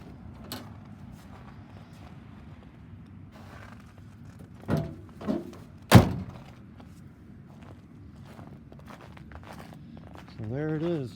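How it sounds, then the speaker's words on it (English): Quiet room tone broken by a few solid thunks and one sharp slam of a 1963 Chevrolet Impala's doors opening and shutting, with a brief whirring sound at the end. "Doors open and shut,"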